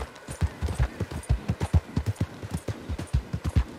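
Horse hooves clip-clop in a steady, rhythmic trot while riding in Red Dead Redemption, close and clear with no talking over them.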